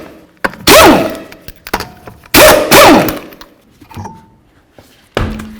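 Rear wheel of a 2006-12 Ford Fusion coming off the raised car: a few heavy, close thunks and scraping knocks of the wheel against the hub, in short separate bursts with quiet gaps, no talk.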